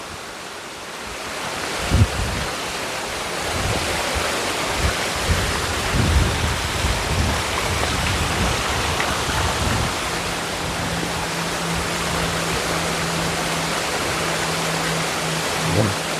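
Steady broadband rush of flowing water at a grotto on the side of Mount Makiling, loud and continuous throughout, with strong wind gusts buffeting and a low hum joining in the second half.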